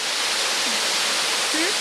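The 110-foot Ozone Falls pours in a steady, dense roar of broadband rushing water that fills the whole moment, with brief voice fragments faintly underneath.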